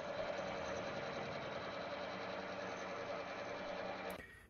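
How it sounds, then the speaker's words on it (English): A milling machine cuts a steel bolt with a steady, loud, close whirring grind and a rhythmic chatter, running continuously before cutting off abruptly near the end. "Back to the milling machine to relieve the two areas which I previously marked out."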